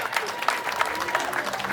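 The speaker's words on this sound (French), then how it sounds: "Applaudissements très très forts" Guests applauding at a customary wedding in Gabon, a short burst of dense clapping from a crowd at moderate level.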